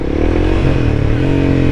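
A motorcycle engine revs up steadily during a rev-matched downshift with the clutch pulled in and throttle blipped, a close, continuous engine drone with rising pitch and slight clatter.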